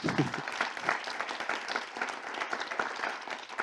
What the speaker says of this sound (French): On peut applaudir également Céline.